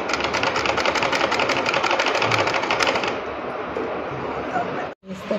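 A sewing machine stitches a suit in a home sewing session, running in a steady fast whirring chatter that drops slightly in intensity partway through, then cuts out briefly and restarts, loud and close.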